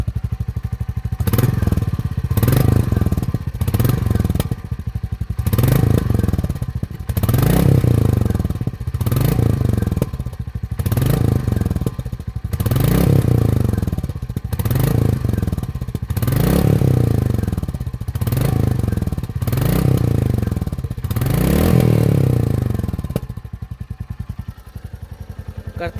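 A Royal Enfield Meteor 350 motorcycle engine is revved again and again, about a dozen rising roars in a regular rhythm, loud and close, settling back to idle between bursts.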